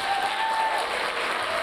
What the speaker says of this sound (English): please applause for the dancers.